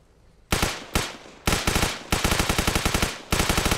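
Sustained bursts of automatic gunfire from the Arma Reforger video game, loud and close, with rapid rhythmic shots separated by brief pauses.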